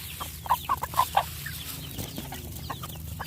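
Chickens cluck in a short burst of four or five close, sharp calls, followed by quieter farmyard clucking and background noise.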